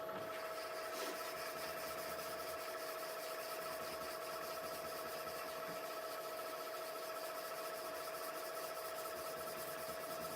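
Sandpaper at 180 grit rubbing against a spinning pen blank on a wood lathe, giving a steady, continuous abrasive hiss over the lathe's constant motor hum, with no talk.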